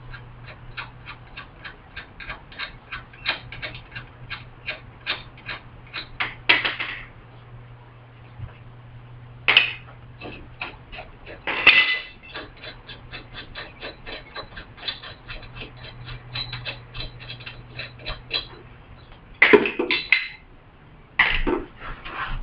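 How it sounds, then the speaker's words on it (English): Lug nuts coming off a brake rotor on a 1999 Chrysler Town & Country, with a steady run of quick ratcheting ticks close by and a few louder metallic clanks breaking in now and then. "let's go ahead and remove the lug nuts that we used to hold the rotor on"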